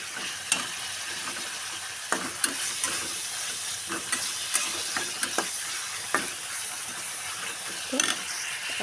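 Fish fries in a pan with a little ginger and garlic, a steady hiss of sizzling oil broken by scattered clicks and scrapes of a stirring utensil.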